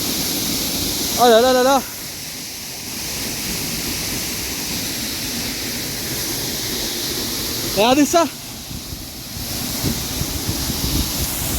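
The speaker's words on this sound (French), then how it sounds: "Là on est au plus près de la cascade," Broadband rushing roar of a waterfall heard from very close, steady and loud throughout, with a voice exclaiming briefly over it twice.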